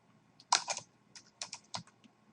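Short bursts of keystrokes on a computer keyboard enter a file name, quick close clicks in two brief groups in a quiet room.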